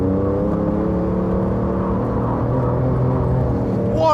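A Porsche GT2 RS engine holds a high, steady rev with layered harmonic whine and low rumble while the car skids, loud and close throughout, with a brief rising squeal at the very end.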